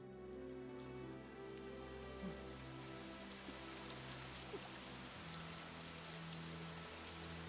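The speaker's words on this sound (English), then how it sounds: "Now it's raining." Steady rain in Fire Emblem Three Houses, a continuous dense hiss of falling drops over a low droning game soundscape, even and unbroken throughout with no voices.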